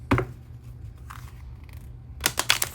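A tarot card deck shuffled by hand, a few close crisp snaps and riffles at the start and a louder flurry of quick card flicks at the end, without talk.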